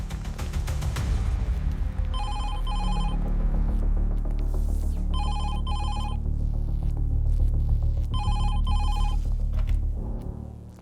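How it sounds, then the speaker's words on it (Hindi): A telephone rings in three evenly spaced double trills over a steady low throbbing hum that continues throughout. "दया, तुम्हारे फोन की टाइमिंग इतनी एक्यूरेट है"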